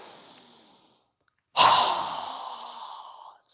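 A single strong, breathy exhale through the mouth during a yoga breathing exercise, rushing out loud and close after a quiet pause and fading over about two seconds, with a faint breath at the very end.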